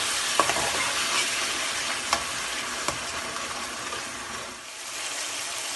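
Steady sizzling of ground onion frying in a pan with garlic and ginger for chicken curry, close and continuous, with a few faint clicks of a utensil stirring.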